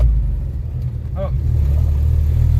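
A car engine runs roughly, as if missing two cylinders, with a loud, low, uneven rumble that swells slightly. A voice is briefly audible over it.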